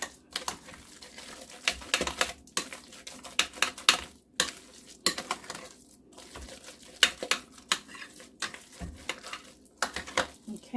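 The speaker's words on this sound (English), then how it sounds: "Stir all that up." Burger mixture stirred in a bowl for homemade burgers, giving irregular clicking, scraping strokes in quick bursts at close range, with brief pauses between runs of stirring.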